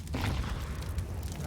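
A low, rumbling boom from a grenade blast in a Counter-Strike match, short and heavy, under a commentator's voice.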